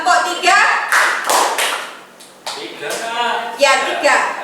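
A class of students clapping along in a counted pattern during an arts lesson warm-up, several sharp group claps in uneven bursts, close and loud, with talking between them.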